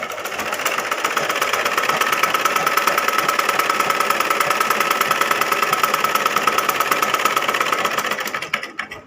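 A sewing machine stitches the hem of a finished blouse with a fast, steady, rhythmic mechanical whir. It runs loud and close with no talking, then stops abruptly at the end.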